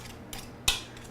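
Spatula scraping the side of a stand mixer bowl while making farm cookies, two brief close metallic scrapes, the second sharper and louder, against a quiet background.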